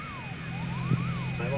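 A jet aircraft idles or taxis on an airport runway, a steady close engine drone with a low rumble and a high whining tone running throughout, while faint voices come and go over it.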